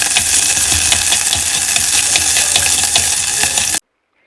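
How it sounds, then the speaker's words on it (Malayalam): Green chillies, onion and curry leaves sizzle loudly in hot oil in a pan, a dense crackling fry with the rhythmic scrape of stirring, cutting off abruptly near the end. "പച്ചമുളക് കുറച്ച് കരിവേപ്പില ഇത്രയും കാര്യങ്ങൾ ഇട്ട് കൊടുക്കാം ഇളക്കി കൊടുക്കാം"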